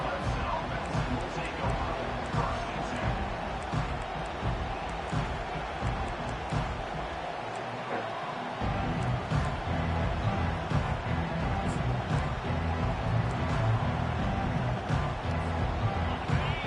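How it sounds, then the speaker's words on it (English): Loud, sustained stadium crowd roar at an LSU vs Clemson college football game, a dense wall of cheering that runs through the whole stretch with a brief dip partway. "This crowd bringing an ear-splitting welcome to their visitors."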